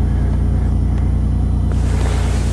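A Chevy engine, buried in winter snow, runs after a cold start with a loud, steady low rumble and a rhythmic idle throb, close and without talk.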